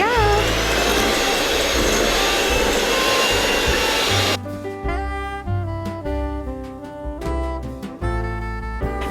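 An electric hand mixer beats sugar cookie dough in a bowl, a loud close whirring drone that runs for about four seconds before cutting off, leaving quieter clattering and tonal background sounds.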